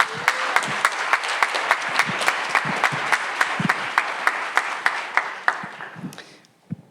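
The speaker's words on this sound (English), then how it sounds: "Let's give them a round of applause." An audience at a winter choir concert applauds the seniors with loud, sustained clapping that is dense and rhythmic, then thins out and fades near the end.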